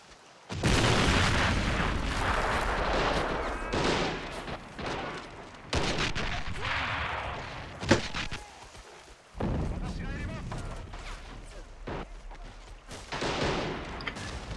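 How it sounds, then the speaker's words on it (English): Battle noise from Men of War: Assault Squad, with booming mortar impacts and scattered gunfire rolling in waves, including one sharp near blast, while players talk over the din. "Mortars out there."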